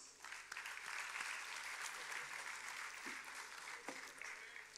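A large audience at a commemorative publication event applauds to welcome guests on stage, the clapping steady and dense throughout at moderate distance, with no talking over it.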